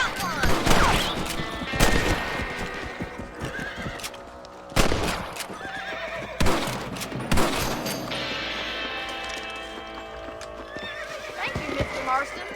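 Several sharp gunshots ring out in the Red Dead Redemption game on Xbox 360, mixed with horse whinnies, clip-clopping hooves and in-game voices.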